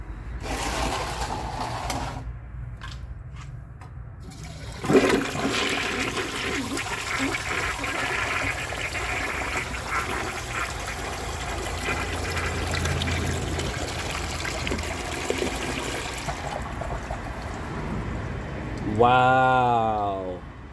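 A 1953 Kohler Trylon toilet flushes with a loud rushing of water that churns for many seconds, then gurgles and trickles as the bowl refills, ending in a squealing, quacking burst of refill noise; no one talks.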